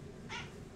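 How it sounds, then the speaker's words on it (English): A cat meowing, a single short mid-pitched meow heard near and faint over a quiet indoor background. "he's meowing like crazy"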